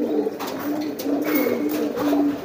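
A giring pigeon coos close by in a repeated, throaty rolling rhythm of several rising and falling coos, steady and fairly loud.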